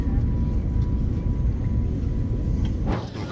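Steady airliner cabin roar cruising at about 12 km altitude and 995 km/h, a dense, loud broadband hum that holds evenly throughout, with a faint voice near the end.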